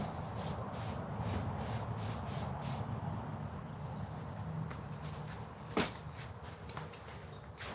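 Silicone shine spray hisses steadily from a can onto motorcycle clutch and ignition covers in repeated short bursts, followed by a quieter stretch with a few light knocks and rubbing sounds.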